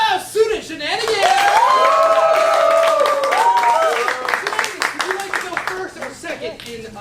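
An improv show crowd breaks into sustained clapping with a loud drawn-out cheer riding over it, then the applause thins into scattered claps and voices.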